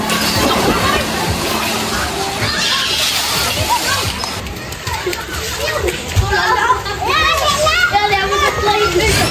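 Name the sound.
children splashing while bathing in water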